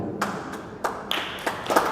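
A few scattered, uneven claps from an audience, several separate sharp slaps spread over a couple of seconds in a roomy space, with no one talking.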